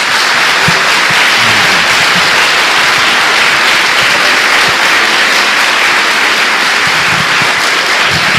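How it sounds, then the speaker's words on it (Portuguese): A church congregation bursts into loud, continuous applause during a Portuguese-language service, a dense wash of many clapping hands at full volume throughout with no talk over it. "Dê uma salva de palmas a Jesus."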